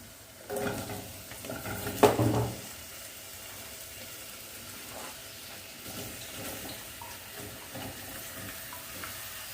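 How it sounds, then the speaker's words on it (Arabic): Zucchini and onion are stirred and sautéed in a pan, with a louder scrape and clatter of stirring near the start, then a soft, steady sizzle of frying. "وهديها تقلبتين على النار كده مع البصله"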